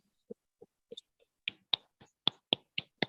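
Online meeting participants welcome a speaker with sparse, separate claps and snaps, first a few isolated ones, then a quicker loose run of sharp hits coming through audio calls.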